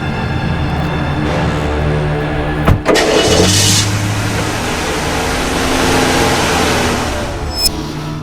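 A car engine cranks and catches with a sharp start, then settles into a loud, steady idle with a slight rev partway through, close by and with no talk.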